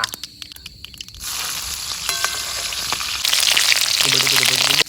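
Green chillies hit hot tempering oil for a Gujarati dahi tikhari, starting with a few crackles and then bursting into a loud, bright, continuous sizzle that grows stronger, with a stirring clink and a faint voice near the end.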